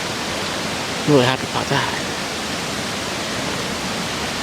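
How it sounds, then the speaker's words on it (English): Waterfall along the Glade Creek Trail, a steady broadband rush of falling water holding even from start to end, with someone speaking briefly over it partway through. "found the waterfall"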